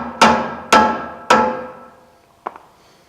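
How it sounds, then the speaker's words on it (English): A large screwdriver wedges a Hold-Tite shoe down into its track: three sharp metallic strikes at even intervals, each ringing out and fading, followed by a couple of softer, quicker knocks, with no voices. "Take that large screwdriver again, and you're going to wedge it down."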